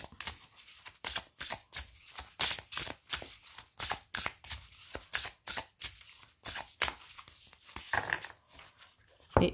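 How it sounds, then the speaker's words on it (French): Oracle cards are shuffled over and over in quick, rhythmic riffling bursts, close up and fairly quiet, with no voices. "Donc nous allons mélanger les cartes."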